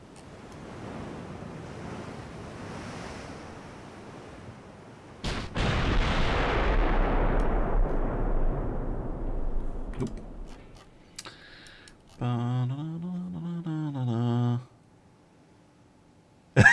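Naval gunfire in the Ultimate Admiral Dreadnoughts warship game: a sudden loud boom of a ship's guns firing on an enemy vessel, rumbling away over several seconds against a bed of ocean surf and wind, followed by a brief tonal game effect.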